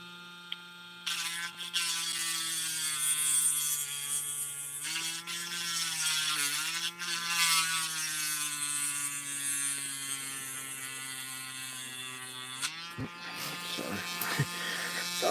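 A small milling tool counter mills a serrated spool while an American lock 5200 is being modified, giving a steady close high-pitched whine that shifts pitch as it cuts, then stops with a few clicks near the end.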